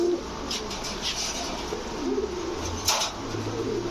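Large red Manikganj Rajgolla pigeons coo softly and repeatedly from close by, a steady low rolling murmur with a faint chirp and light flutter now and then, and no voices.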